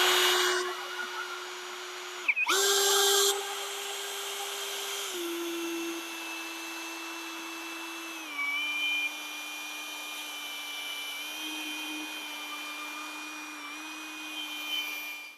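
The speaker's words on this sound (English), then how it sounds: "a drill attachment with a bulb drill" A steady electric drill whine with a bulb mixer attachment mixing soil runs continuously with slight pitch drops as the load changes, with a brief louder burst near the start.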